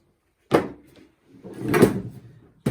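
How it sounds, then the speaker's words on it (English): A hammer knocks on a damaged plastic nucleus beehive, giving a dull hollow thump followed by a longer scraping knock and the start of a third hit. "I might just try and knock it with a hammer a bit"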